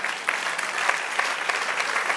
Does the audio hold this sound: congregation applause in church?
yes